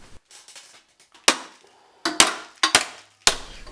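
Sharp metallic hammer blows knock at a rusty BMW E46 brake shield in a workshop, about five loud close strikes at uneven intervals with ringing decays and fainter taps between them.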